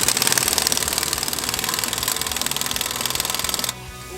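Exhaust adapter bolts are tightened on a Thermal Explorer ST exhaust with a loud, rapid, hammering rattle from a power tool, continuous and close, that stops abruptly just before the end.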